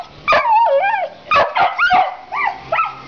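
Several dogs bark and yip in close, loud bursts with whimpering, whining tones between them, a run of about six sharp outbursts with no one speaking.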